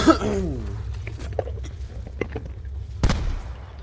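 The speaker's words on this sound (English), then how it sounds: "Somebody's shooting at me." Sniper gunshots in Call of Duty Blackout, a snipers-only battle royale mode: a few sharp reports scattered over several seconds, the loudest striking near the end, with quieter game sounds between.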